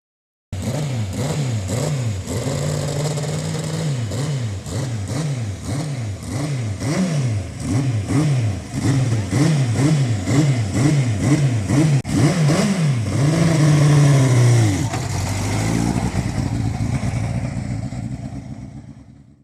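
A sidecar racing engine at the Pouilly-en-Auxois circuit, revving up and down in a rapid repeated rhythm, then a long high wail as it pulls away, close and loud with no talk.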